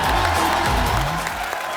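Studio audience applause and cheering welcoming actor Randeep Hooda onto a show, a continuous dense clatter lasting the whole short clip with a faint tonal music bed underneath.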